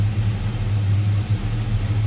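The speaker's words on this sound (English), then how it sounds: "The Edelbrock 4-barrel on it idled down very nicely" A 1970 Plymouth Road Runner V8 with an Edelbrock four-barrel carburetor idles close by, a steady deep burbling hum with a slight lope and no talking.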